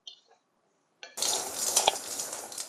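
Raw white rice dry-roasting in a pan for puttu, heard as a few light clinks followed by a continuous dry, gritty rustle of grains being stirred and scraped, close and steady.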